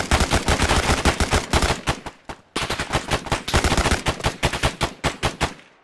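Rapid bursts of automatic gunfire, loud and close, firing in quick repeated volleys with a brief pause midway before the shooting resumes.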